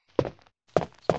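Footsteps from the original Resident Evil played on PC, three dull thudding steps spaced apart, close and clear with no talk over them.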